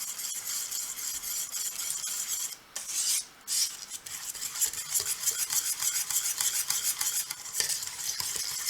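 Icing sugar and cocoa powder stirred together in a bowl for a chocolate tart, a continuous close, gritty scraping rhythm of a utensil against the bowl with one brief pause, no voices.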